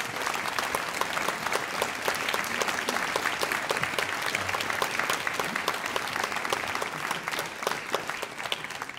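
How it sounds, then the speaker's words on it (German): Applause from the audience at a pure-vocals concert by an a cappella group at Gut Rosenberg, a dense, steady clapping that stays loud and continuous for the whole stretch with some crowd noise mixed in. "Ein Applaus für Nils."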